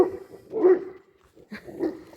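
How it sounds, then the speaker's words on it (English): A neighbor's dog barks nearby in two separate short bursts with a pause between, each with a whiny, yipping edge, and no voices present. "the neighbor's dog's here"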